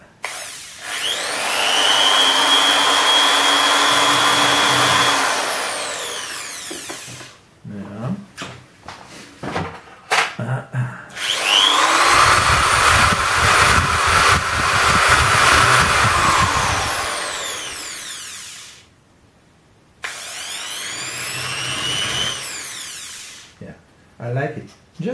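A power drill whirs in several long bursts while drilling a frula flute, starting and stopping with short pauses between, plus a few clunks and handling noises in the gaps.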